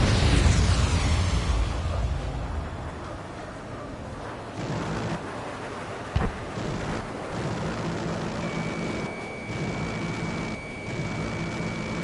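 A missile explosion in the flight combat game Ace Combat 7 opens with a loud, roaring boom that decays into a long rumble of jet engine drone, with a thud midway and a steady high warning tone later.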